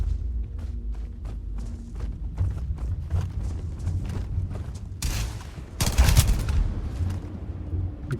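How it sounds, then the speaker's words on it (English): Rapid gunfire in the video game Starfield, with a steady run of sharp shots followed by two louder, denser bursts of automatic fire. "He just tried to shoot me in the ass"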